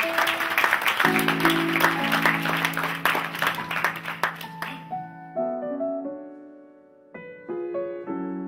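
An audience applauds a golden wedding couple at a municipal celebration in a festival hall, a burst of clapping over sustained keyboard chords that ends abruptly halfway, leaving the music playing alone.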